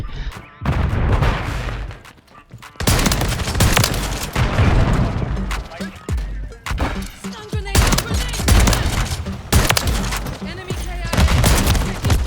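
Reclaimer 18 shotgun fire in Call of Duty Warzone III comes as rapid, loud bursts of booming shots that repeat in dense volleys throughout, while a voice talks over the gunfire.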